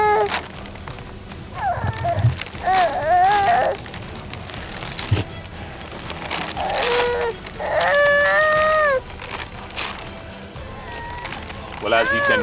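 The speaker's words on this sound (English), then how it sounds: "that's the cry of a baby right under the polythene." A baby cries under polythene sheeting in driving rain at a refugee shelter in Ghana, wavering wails rising in bursts over steady rain and background noise.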